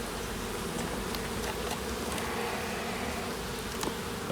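Honeybees from a freshly shaken hive drone in a dense, continuous buzz, close and steady, with individual bees flitting past.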